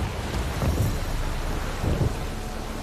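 Steady rain hisses through a thunderstorm in the video game The Witcher 3: Wild Hunt, and two low rumbles of thunder swell and fade about a second apart under the constant downpour.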